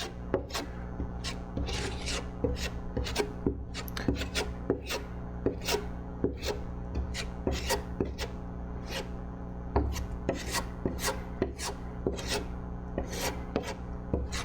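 A putty knife rhythmically scrapes and spreads filler across a fiberglass sun deck, steady rasping strokes repeating close up throughout with no talking.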